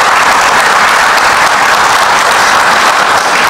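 Audience applause at a public event in Haiti, loud, dense and continuous from start to finish, with no pauses or voices standing out.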